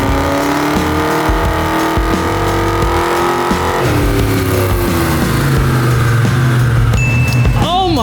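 An upgraded car engine with a massive engine upgrade revs loudly and continuously under power, its pitch climbing through the gears with a shift partway through. The sound is close and sustained, with faint tire or whine sounds near the end.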